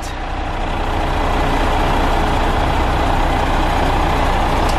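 A heavy truck hauling cement for aqueduct repair work, its low diesel engine rumbling steadily and fairly close for the whole stretch, with no voices.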